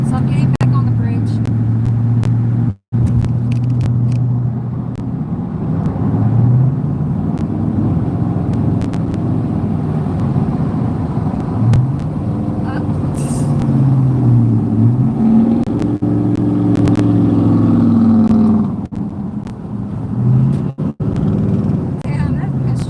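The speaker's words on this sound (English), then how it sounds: "Damn, that construction truck is loud. It sounds like a racer, but it's only a construction truck." A loud construction truck on a bridge, its engine heard as a low, sustained rumble with rising and falling revving tones nearby, while traffic noise continues throughout.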